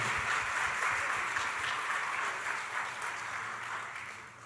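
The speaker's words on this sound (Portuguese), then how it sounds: "Vamos receber o casal com uma salva de palmas, queridos?" Steady applause from a church congregation fills the whole stretch, dense and continuous, fading slightly toward the end.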